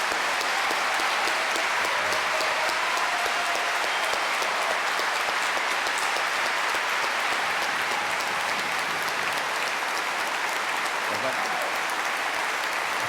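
Sustained applause from a debate audience fills a hall, a steady dense roar of many hands clapping for the whole stretch, with a voice faintly audible beneath it.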